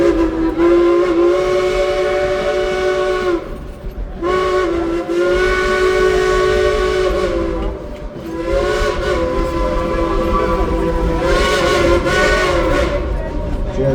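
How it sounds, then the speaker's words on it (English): A steam train's whistle blows loud and sustained in several long blasts with short breaks between them, heard close over the rumble of the moving train. "You can hear that whistle from almost 3 miles away."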